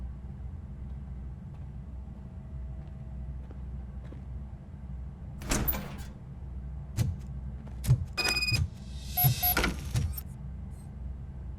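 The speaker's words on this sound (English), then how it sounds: "Now let me get that door open for you." A door opens in the video game RoboCop: Rogue City with a short run of mechanical clanks, whirs and metallic clicks. They come in bursts over a steady low ambient hum, and no one speaks.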